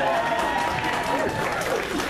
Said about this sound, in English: Clap again, everybody.